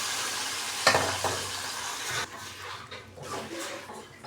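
Turmeric and mashed boiled tomato frying in a pan for tomato rasam, a steady close sizzle with a sharp splash as the tomato goes in, then stirring scrapes as the hiss settles and thins.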